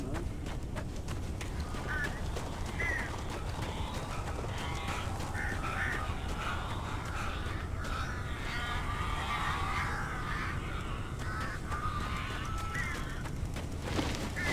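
Crows caw repeatedly in the video game Alan Wake Remastered, harsh calls rising over a steady background hum, with some rustling and clattering mixed in at moderate distance.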